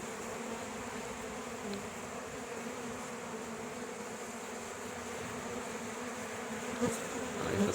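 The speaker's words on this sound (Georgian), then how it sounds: "უცხო ფუტკარი რომ შევიდეს სკაში" Honeybees buzz at a hive in an apiary while robber bees try to enter, a steady dense hum of many insects close by, with brief sharper buzzes of individual bees passing near.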